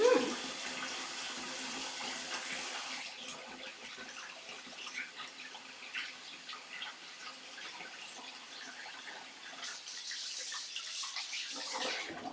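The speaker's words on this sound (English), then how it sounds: "go wash my hands again" Tap water runs into a kitchen sink while hands are washed, a steady splashing stream near the microphone that shifts slightly in texture as the hands move under it.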